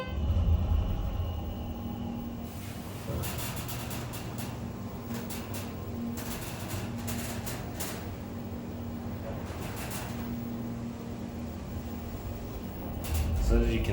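A Schindler 330A hydraulic elevator, worn and vandalized, rides with a steady low mechanical hum throughout, bracketed by louder rumbling thumps at the start and the end of travel.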